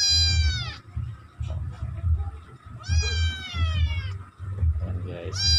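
Cat meowing loudly and close, three long drawn-out meows spaced apart, with low rhythmic thumping underneath.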